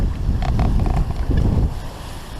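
Choppy, confused waves slap and wash against a sailboat hull on Lake Huron, with heavy low rumble and wind buffeting the microphone, loud and close throughout with no talking.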